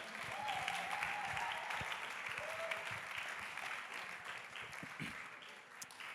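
Wedding guests applauding during a best man speech at a reception: steady, continuous clapping from a crowd, with faint murmurs and background chatter mixed in, fading slightly toward the end.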